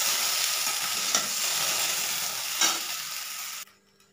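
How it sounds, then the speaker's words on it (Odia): Okra fries in a pan, giving a steady, close hiss of sizzling oil with a couple of scraping stirs. The sizzle cuts off abruptly near the end. "ବେଶୀ ଭାଜିବାନି, ତା'ର ଲାଳ ଛାଡ଼ିଯିବା ପର୍ଯ୍ୟନ୍ତ ତାକୁ ଭାଜିବା।"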